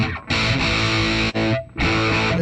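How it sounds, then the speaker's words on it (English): A muddy, broken-sounding Fender amp model on a Joyo preamp pedal gives loud distorted electric guitar chords, close and thick, with several strummed bursts separated by brief gaps and no voices. "My muddy, broken Fender amp sound."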